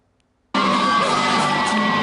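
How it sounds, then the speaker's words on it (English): After a moment of silence, a crowd of fans bursts into loud, sustained screaming and cheering for a film's cast, a dense wall of shrill voices close by. "The fans are screaming for a legit reason."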